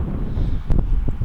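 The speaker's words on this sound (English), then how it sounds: "It's just a little windy." Low rumbling wind buffeting the microphone outdoors near the Tetons, a steady blustery roar with a brief gust.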